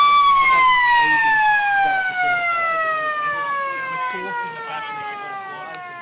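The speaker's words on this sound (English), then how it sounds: "and there's a siren" A loud, sustained siren wail at an Australian rules football match slowly falls in pitch over several seconds, sounding above a murmur of crowd noise.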